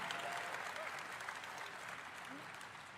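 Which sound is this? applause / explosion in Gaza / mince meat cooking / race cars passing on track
applause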